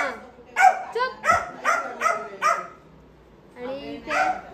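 A dog in a village setting barks repeatedly, a quick series of five or six sharp, close barks followed by a pause and two more whining yelps, with some human voices mixed in.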